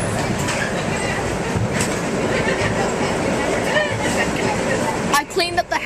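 A commuter train hauled by a P32 diesel locomotive rumbles steadily along the rails past Dobbs Ferry with a continuous clattering roar, heard from inside the car, with faint chatter and a few sharper knocks near the end.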